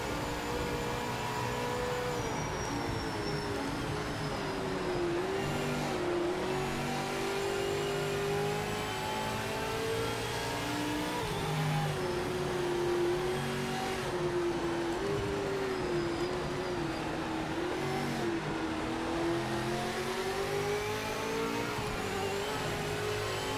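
Race cars in a motor racing video game at Bathurst, engines dropping in pitch as they brake over a crest, then climbing again; a steady, loud, continuous engine drone with no talking.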